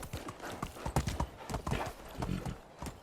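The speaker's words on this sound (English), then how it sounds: "I cannot slow my horse down." A horse's hooves clip-clop in a quick, steady rhythm as it rides through a village in the Medieval Dynasty video game, loud and close.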